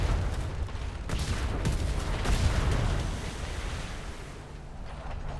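Ship cannons fire in a naval battle game, a series of heavy booming volleys rolling together, loud at first and then fading into a low rumbling wash like surf.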